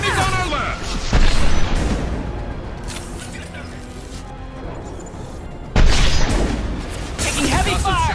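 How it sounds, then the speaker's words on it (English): Heavy combat fire in Mass Effect 2, with loud booming blasts and rattling shots in bursts, swelling and fading, mixed with voices calling out over the fighting. "Taking heavy fire!"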